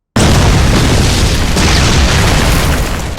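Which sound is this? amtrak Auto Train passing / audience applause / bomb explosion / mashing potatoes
bomb explosion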